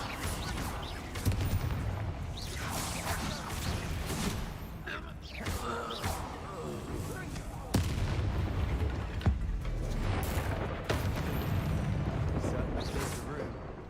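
Bombarda explosion spells go off in the Hogwarts Legacy video game: repeated deep booms and blasts, some sudden and sharp, over game noise, with a voice talking at times.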